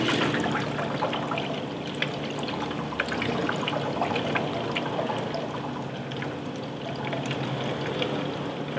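Liquid poured through a Chemical Guys EZ Fill funnel into a sprayer, a steady close trickle and splash running continuously with faint irregular drips on top.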